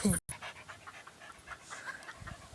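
A dog pants in quick, rhythmic breaths close by, with a brief bump near the start and soft room noise around it.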